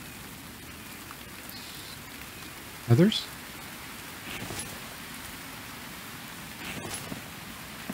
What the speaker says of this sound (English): While it's raining.